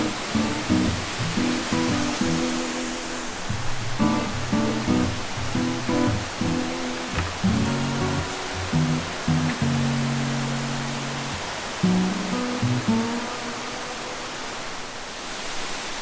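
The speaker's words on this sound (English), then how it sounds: "So I'm up here on top of this huge boulder down the very bottom of the waterfall." Bearden Falls roars as a steady, full waterfall heard from a boulder at its base, a dense constant rush with no pauses, loud and close.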